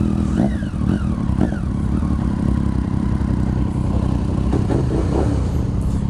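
A Suzuki SV650 V-twin motorcycle engine rumbles close by, with a steady low throb and a few quick revs rising and falling early on, heard alone without talk.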